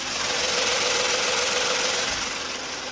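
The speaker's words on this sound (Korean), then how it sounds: "지금 영상에서 들리시는 것과 같이 정말 정숙하고 규칙적인 엔진 사운드 들려주고 있고요" Steady, smooth Genesis car engine hum at idle, close up with the hood open, with an even low rhythmic pulse and a faint whine, no voices.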